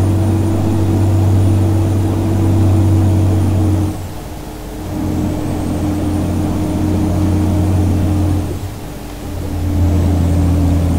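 Bus engine droning steadily while driving on a mountain road in Euro Truck Simulator 2, a loud continuous hum that briefly dips and softens twice as the throttle eases, then returns; no one speaks.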